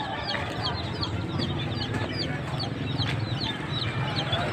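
Chickens cluck steadily at a bird and poultry market in Kemojing, Binangun, Cilacap, with overlapping nearby clucks and chatter over a busy market hum.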